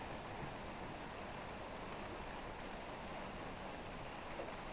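Steady rain falls outdoors on a gloomy day beside a motorcycle being worked on, a dense, even hiss of drops filling the whole clip at a constant faint level with no voices.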